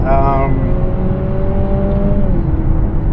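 A Honda CR-V Hybrid accelerating through a corner, its engine giving a steady droning whir with a rising tone that fades after a couple of seconds, heard from inside the cabin under someone talking.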